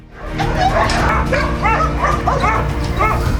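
Several dogs at a shelter barking and yipping continuously, loud and close, with some whimpering mixed in.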